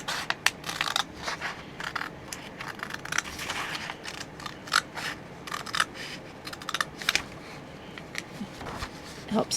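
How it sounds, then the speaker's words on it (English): Scissors snip the rounded corners of a junk mail envelope in a string of quick, close, crisp cuts, with paper rustling between them. "get your scissors in there to do those rounded edges"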